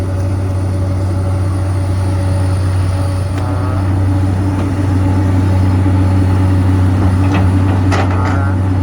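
A Komatsu PC200-8 excavator's six-cylinder four-stroke diesel engine idles outdoors in the rain, a loud, steady low drone that holds unchanged throughout, with a few faint higher clicks and squeaks near the end.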